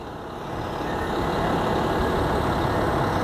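Intercity coach departing a bus station in Balneário Camboriú, a deep diesel engine rumble building steadily and holding loud and close, with no talking.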